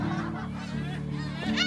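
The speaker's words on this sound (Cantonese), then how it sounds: "因為佢哋嘅鳥聲近似貓叫聲" Black-tailed gulls calling at Kabushima Shrine, a dense colony of nasal, honking, cat-like cries that overlap continuously and sound loud and close.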